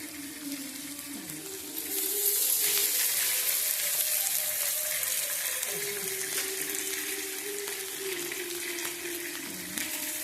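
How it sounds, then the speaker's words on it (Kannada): Tomato and coriander fry in a pan for chitranna, a soft continuous sizzle with stirring that grows louder after a couple of seconds, while a faint voice and kitchen hum run underneath. "ಈಗ ಸ್ವಲ್ಪ ಟೊಮಾಟೊ ಹಾಕಿ ನೋಡ್ರಿ, ಚೆನ್ನಾಗಿ ಹುರಿಬೇಕು ರೀ"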